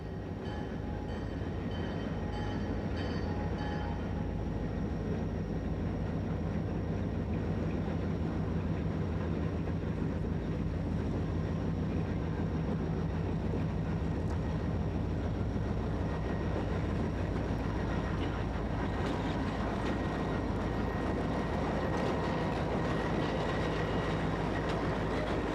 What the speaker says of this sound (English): This lash-up of both EMD and GE power in various constituent company liveries is leaving Brunswick, Maryland with a westbound freight.